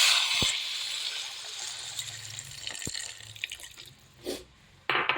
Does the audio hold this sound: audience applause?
no